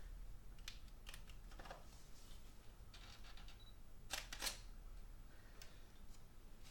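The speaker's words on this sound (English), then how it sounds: "You're hearing the camera clicking?" Camera shutter clicks near an acrylic pour with pressure release, a scattering of short sharp clicks spread irregularly over several seconds, one cluster louder midway, against a quiet room hiss.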